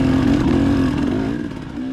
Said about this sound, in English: KTM 250XC-W really loves the twisty stuff like this.